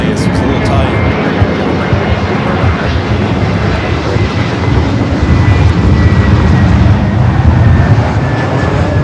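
An Airbus A321neo airliner at LAX airport in windy conditions, a loud, continuous broadband roar of jet engines and rushing wind close to the microphone, with someone talking over it.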